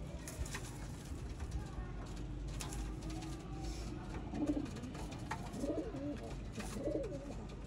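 Sialkoti pigeons coo in a few soft, rounded calls toward the end, close but low over a steady outdoor background hum.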